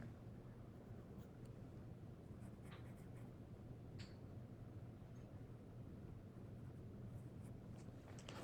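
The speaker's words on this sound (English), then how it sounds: "I'm going to sketch out a T. I'm gonna draw very lightly." A pencil lightly sketches a T shape for a one-point perspective drawing, producing faint, sparse scratching strokes over a quiet room hiss.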